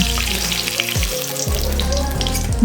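Katla fish pieces frying in hot oil in a pan, a steady close sizzle with a brief dip in the middle, no voices.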